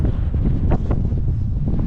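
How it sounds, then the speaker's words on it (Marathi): Strong wind blasts straight into the microphone on an open hilltop by a windmill at sunset, making a loud, continuous rumble with rough gusty surges, and no voices are heard. "वाऱ्याचा आवाज जास्त असल्यामुळं जरा व्हॉइस ओव्हर तुम्हाला क्लिअरली येत नसेल हवा खूप सुटले"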